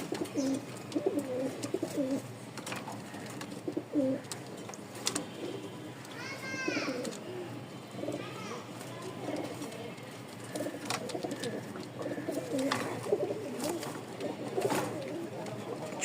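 Rajshahi Giribaz pigeons in breeding condition coo repeatedly in a small enclosure, the low calls coming in bursts at moderate distance, with people talking and children's voices in the background.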